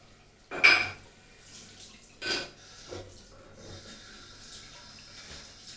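Cold water runs from a tap for a rinse during a shave, a steady hiss of flow after a few louder clinks and splashes at the sink.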